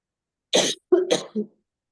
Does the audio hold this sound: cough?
yes